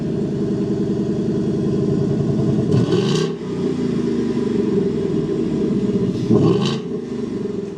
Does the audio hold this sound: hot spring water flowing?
no